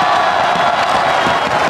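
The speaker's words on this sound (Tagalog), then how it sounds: "Grabe yung hiyawan ng tao" A FlipTop rap battle audience roars with loud, sustained cheering and shouting, whoops and yells layered into a dense, continuous wall of crowd noise throughout.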